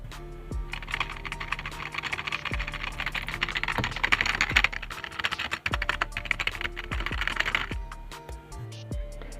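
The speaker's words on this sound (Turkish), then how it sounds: "İsterseniz size bir sesini falan dinleteyim klavyenin." Fast clicking keystrokes on a cheap, low-quality plastic computer keyboard, a dense steady patter of plastic key taps with a few heavier thumps, close up and without talk.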